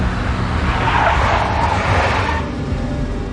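A big black Mercedes skids in the Max Payne Mobile video game, a loud continuous tire squeal over engine roar that swells and then eases slightly near the end, with no voices.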